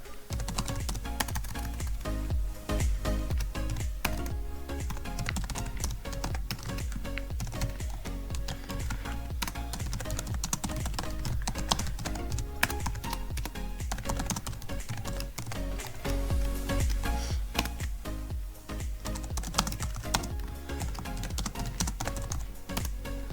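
Steady, rapid keystrokes on a computer keyboard while C++ code is typed, a dense continuous clatter close to the microphone lasting the whole stretch with no talking.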